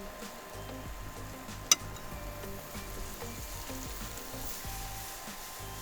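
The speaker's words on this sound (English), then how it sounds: "Also gonna salt these onions while they're sauteing" Salted onions sauté in butter in a pan, making a faint, even frying hiss that runs steadily throughout, broken once by a single sharp tick.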